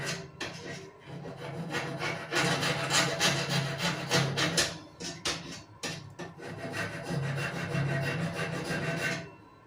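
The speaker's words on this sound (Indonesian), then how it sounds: "Saya beri sebuah kikir segitiga" A triangular file scraping rust off the connector of a Powerpac oven that won't heat, giving steady rasping strokes in a quick back-and-forth rhythm, close and fairly loud, continuing for several seconds with short pauses.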